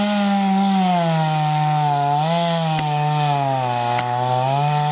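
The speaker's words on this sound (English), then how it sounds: "And I should use the chainsaw." A chainsaw cuts wood at a camp weekend away, its loud, steady engine drone running without pause and dipping in pitch now and then as it bites under load, with no talk over it.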